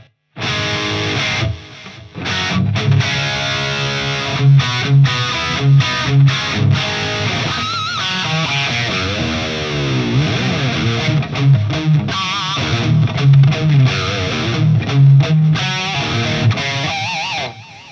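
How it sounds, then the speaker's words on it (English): Electric guitar played through heavy distortion and delay, sustained chords and melodic bends ringing continuously with echoing repeats throughout. "But when you add the delay"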